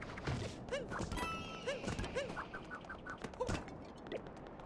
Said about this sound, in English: I hear like a bird cawing somewhere.